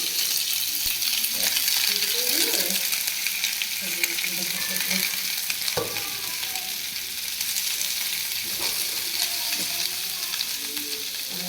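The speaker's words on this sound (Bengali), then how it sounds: "আমি এখন চলে আসছি শুটকির কারি ফ্রাই করবো" Dried fish curry fries in a pan, giving a loud continuous sizzle with scattered scrapes and clinks as it is stirred, close and alone throughout.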